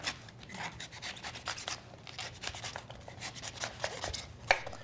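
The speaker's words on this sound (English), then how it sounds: "we cut it here and I cut around with the knife this way" A kitchen knife scrapes and cuts around a globe artichoke in a cooking lesson, giving a steady series of close, dry rasping strokes with a sharper click near the end.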